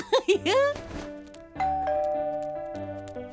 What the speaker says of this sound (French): ça sonne à la porte. La sonnette!